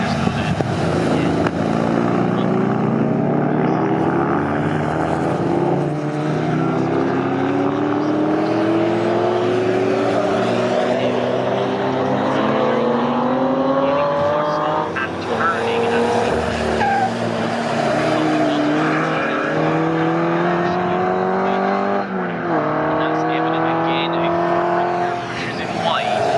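Pre-1963 and 1950s historic racing cars roar past on the Bentley straight at Snetterton, engines loud and sustained with rising and falling pitch as several cars pass in succession, a commentator talking over the noise throughout.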